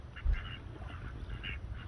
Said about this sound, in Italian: Stanno mandando via la coppia di germano reale, stanno mangiando il pane, arrivano altre anatre